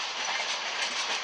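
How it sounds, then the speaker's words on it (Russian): An electric commuter train rolls along the rails on a Moscow-to-Novosibirsk route, giving a steady, loud, close rushing roar with faint clatter and no voices. "Это электричка."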